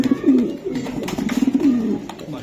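Racing pigeons coo up close in repeated low, throaty rolling calls that overlap continuously, with no talking.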